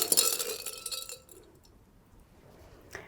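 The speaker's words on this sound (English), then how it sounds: "I like to give it a stir, just to get it going." A spoon clinks and rattles against a glass while stirring Campari in a cocktail, quick bright taps, then fades to quiet before one last faint clink.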